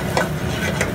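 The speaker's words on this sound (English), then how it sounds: "you can kind of hear it, hopefully, kind of toasting and frying as it goes along" Panko breadcrumbs and parsley frying in olive oil in a pan give a steady, close, dense sizzle with soft crackling bursts throughout, no voices.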